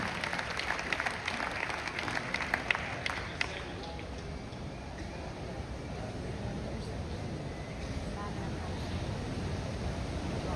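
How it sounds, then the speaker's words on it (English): An audience at an outdoor Aquatheater aboard the cruise ship Star of the Seas applauds awardees, with a few seconds of scattered clapping fading into a steady wash of wind and sea ambience. "Ladies and gentlemen, a huge round of applause for Lee and Miriam"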